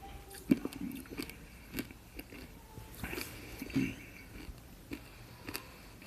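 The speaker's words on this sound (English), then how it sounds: "For those of you who don't like the sounds of crunching, I apologise." A Fox's mint imperial bitten and crunched, faint scattered crunches and chewing clicks close to the mouth in a quiet room.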